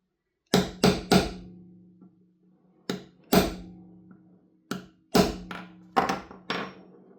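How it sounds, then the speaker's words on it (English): A small hammer taps a pin into the bolt of an airsoft gas blowback rifle (VFC/APFG MPX) during a repair: about ten sharp, close metallic knocks in short bursts with brief ringing and pauses between groups. "I'll just tap that once or twice just to get it sat just below the surface."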